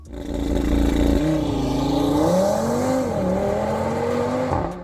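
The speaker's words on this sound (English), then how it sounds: "the RS3 already sounds fantastic, has really nice exhaust from factory" An Audi RS3 on its factory exhaust revs up and falls back several times, a close, loud engine note rising and dropping in smooth sweeps with no talking.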